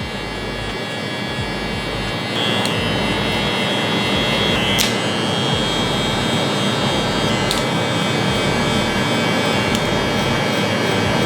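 Electric hair clippers blending a burst fade with the lever open, a steady loud close buzz with faint flicks over the hair and no talking.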